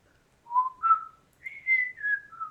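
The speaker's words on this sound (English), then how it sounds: "if we can whistle the Andy Griffith song" A person whistles the opening of the Andy Griffith Show theme, a clear solo melody of several sustained notes in two short phrases, close and alone against a quiet background.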